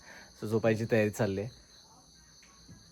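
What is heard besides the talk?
crickets chirping at night in a Konkan village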